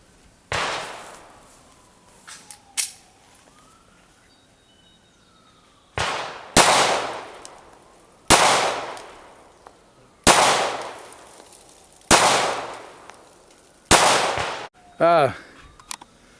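A Ruger LC9 pistol fires about seven sharp, loud shots, spaced unevenly a second or two apart, each with a short echoing decay; a faint electronic tone passes between the first few.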